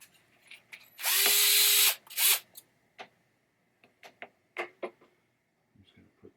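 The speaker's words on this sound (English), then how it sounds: "Electric screwdriver." An electric screwdriver drives screws into a 1990 Williams Funhouse pinball trap door in two loud whirring bursts, one about a second long and a shorter one after it, followed by scattered light clicks and handling taps.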